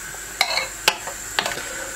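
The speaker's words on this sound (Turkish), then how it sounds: "Tekrar karıştırıyorum." A spoon stirs cacık seasoned with mint, olive oil and salt in a bowl, making three light clinks and short wet swishes, close and fairly quiet.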